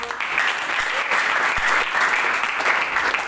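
An audience at a campus gathering breaks into steady, dense applause, a continuous wash of clapping that holds at an even level throughout with no voices on top.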